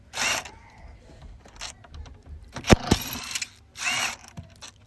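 Ratchet wrench turning out the bolts on the bonnet latch of a VW Golf, close up, with bursts of rapid ratcheting clicks and a couple of sharp metallic knocks from the tool and parts.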